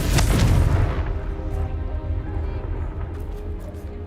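A Confringo fire spell explodes in the video game Hogwarts Legacy: one loud, booming blast that hits at once and then rumbles away over a few seconds.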